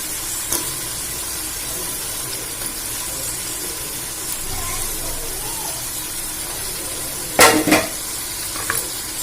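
Tomato masala for mutton biryani stirred in a sizzling pot, with steady loud frying hiss throughout and a few sharp spoon knocks against the vessel near the end.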